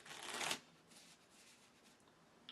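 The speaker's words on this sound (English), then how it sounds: "Shuffle it up." Deck of game cards for a tabletop game being shuffled up close: one quick riffling burst lasting about half a second, followed by quiet handling with faint rustles.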